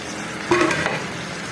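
Bitter gourd and minced keema frying with chopped green chilies and tomatoes: a steady low background hiss swells into a brief burst of sizzling and stirring as the ingredients go in, close and with no voices.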